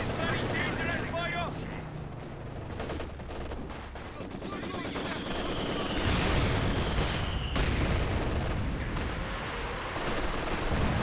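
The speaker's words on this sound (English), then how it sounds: "Here comes Katyusha Barrage." A Katyusha rocket barrage in Company of Heroes 2 rumbles and crackles through dense battlefield gunfire, with a streaking whoosh and heavy booming impacts, loud and continuous, with some voice mixed in.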